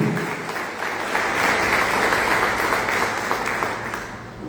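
A church congregation applauds together in a steady, full wash of clapping that holds evenly for several seconds.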